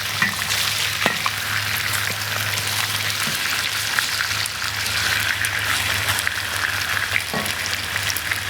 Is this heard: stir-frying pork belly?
yes